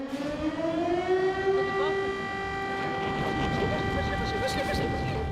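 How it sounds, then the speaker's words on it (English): A loud air raid siren in Ivano-Frankivsk, Ukraine, rises and holds a steady wailing tone, with a lower hum and some background rumble throughout. "Air raid sirens sound in the city often."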